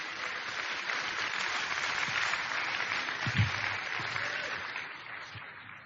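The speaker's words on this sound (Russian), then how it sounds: "Дайте аплодисменты Иисусу." Church audience at a sermon applauding steadily, a dense even clatter of many hands sustained for several seconds and tapering slightly at the end, with no talk over it.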